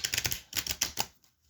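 Rapid crisp clicking and riffling, two quick bursts of a glossy tarot deck being shuffled close by, ending in a brief pause.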